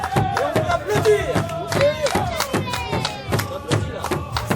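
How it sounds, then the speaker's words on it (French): Audience clapping at a children's blacksmith forging demonstration at a maker fair, dense irregular claps with voices and a bright metallic ringing mixed in throughout. "Et on peut applaudir"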